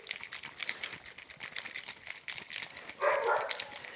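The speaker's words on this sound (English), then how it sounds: "My dog barks whenever I shake cocktails." A cocktail shaker rattles rapidly with ice in a quick, continuous rhythm, and a dog joins in near the end with a short burst of barking.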